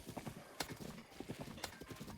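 Horse galloping in the video game Breath of the Wild, quiet, rhythmic clip-clop hoofbeats in quick, uneven bursts with sharp footfall hits, heard on their own.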